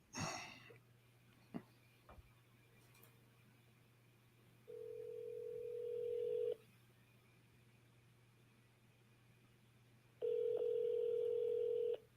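An outgoing telephone call rings out on a sales call: two long, steady ringback tones separated by a quiet gap, over a faint constant line hum.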